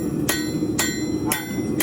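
Hammer blows flattening hot metal in a forge shop, three sharp ringing strikes evenly spaced over a steady low background rumble.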